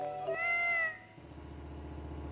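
A cat meows once in an RPG Maker video game, a clear tonal cry lasting under a second, followed by a soft looping game music bed with no talk.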